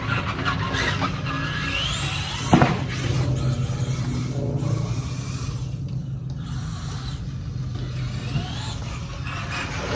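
A Traxxas Slash 2WD RC car built from a kit races around a dirt course and takes a poorly built jump, its electric motor whining in rising and falling sweeps, with a sharp thump from a landing early on.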